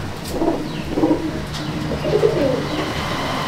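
Madrasi pigeons in a loft give repeated soft, throaty coos in short rolling phrases, close to the microphone, over a faint background hum, with no speech.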